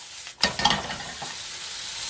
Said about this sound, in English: give the mushroom a chance to brown on one side. Then you can start turning them.